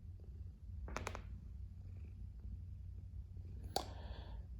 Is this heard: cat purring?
yes